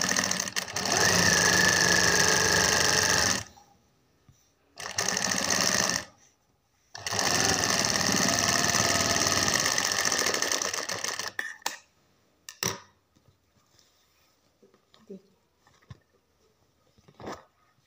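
Electric sewing machine stitching the fold of a Patiala pajama, running in three loud sustained bursts of rapid whirring with short pauses between, then a few quieter clicks and handling sounds.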